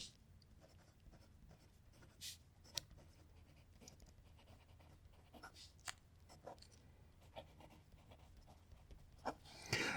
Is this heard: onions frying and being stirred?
no